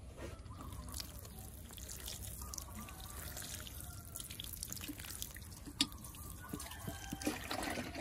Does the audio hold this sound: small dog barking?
no